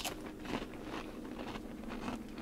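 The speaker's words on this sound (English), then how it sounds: "Those are simply your regular everyday crackers, nice and crunchy and super bland." Close-up biting and crunching of plain, bland MRE crackers from a 2019 Menu 60 ration, giving dense, crackly chewing noise for a couple of seconds with no talking.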